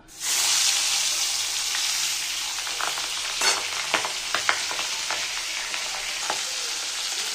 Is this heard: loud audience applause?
no